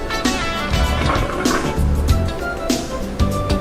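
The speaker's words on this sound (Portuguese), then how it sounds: "A água tem que ser colocada aos poucos para a gente não criar bolinha no fermento." Water poured gradually into yeast for chocotone dough, a steady liquid pouring sound lasting throughout, fairly loud and close, with some kitchen clatter and faint background voices or music underneath.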